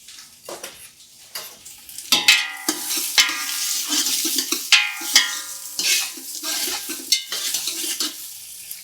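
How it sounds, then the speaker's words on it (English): Onions sweat in a large soup pot with coarse sea salt for tomato soup, a close sizzle broken by repeated scraping stirs and clinks of a spoon against the pot. "we can just actually sweat out some of that flavor and all of that good stuff inside of our onions"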